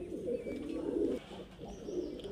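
Highflyer Giribaz pigeons giving soft, low cooing calls in two or three throaty bursts, close and fairly faint.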